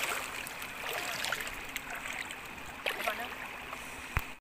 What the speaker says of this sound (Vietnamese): Đây có suối nè, có cá này.